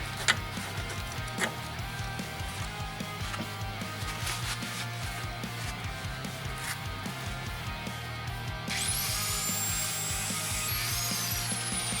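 Cutting through a rear sway bar link on a 2000 Toyota Camry XLE 3.0L V6, a continuous rattling mechanical grind with rapid ratchety pulses, steady throughout and rising in pitch near the end.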